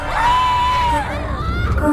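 People shout near a riverside, with one long, drawn-out raised voice over a loud, close, continuous clamor.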